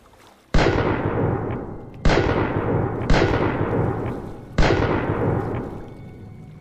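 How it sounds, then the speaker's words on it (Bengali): Four booming cannon blasts as a sound effect in a Bengali pirate audio story, each a sharp loud onset followed by a long rumbling decay, spaced irregularly about a second or more apart with no speech. "কামান ছোড়ো, একসঙ্গে সব কামান ছোড়ো"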